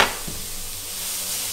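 Minced meat sizzling in a frying pan while making bolognese, a steady soft hiss with a brief stir or clatter near the start, fairly close and with no talking.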